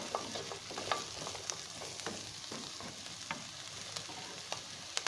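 Chopped vegetables sizzling steadily in a pan for a Chicken Manchurian, with a spoon scraping and knocking at intervals. The frying is continuous and fairly close, and no one speaks.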